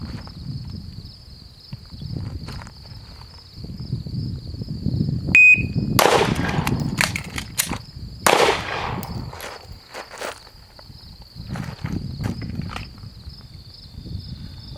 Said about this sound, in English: let's do a complete power stroke where I'm really pulling back on it, ripping the slide off the gun kind of a thing